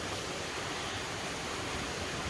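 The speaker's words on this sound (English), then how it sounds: "it's just all this water running off the top of the mountain" Steady broadband rush of rainwater running off a mountainside across a soaked Appalachian Trail path, a constant loud hiss that fills the whole moment without pause.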